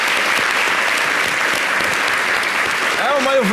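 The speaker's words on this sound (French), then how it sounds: "On va l'applaudir encore." A studio audience on a local television show keeps up loud, steady applause throughout. A voice rises over it near the end.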